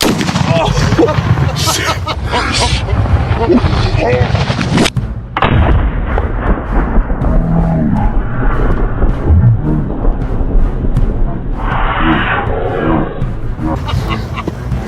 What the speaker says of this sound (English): 20mm cannon.